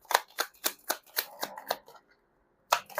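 Tarot cards shuffled by hand in a series of crisp riffling bursts, about seven quick rhythmic strokes, then a short pause and one more burst, close and clear with no talking.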